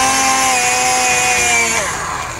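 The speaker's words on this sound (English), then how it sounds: "the drill bit will make a nice clean hole" A drill whines steadily at high speed as its bit bores through a thin plastic pan, the pitch dropping briefly near the end as it breaks through.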